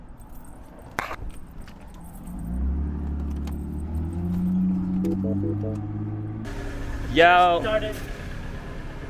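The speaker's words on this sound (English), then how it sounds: "Just started the Mini right now, and it's sounding pretty good." A Mini Cooper's engine cranks over and settles into a steady low idle after a water pump, pulley and drive belt idler replacement, with a brief voice heard near the end.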